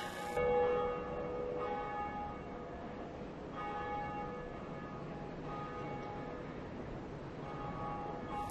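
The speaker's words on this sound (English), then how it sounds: "Bell rung." A church-style bell in the Dark Souls 2 game tolls three times at even intervals, each strike ringing out and decaying slowly over a faint low background.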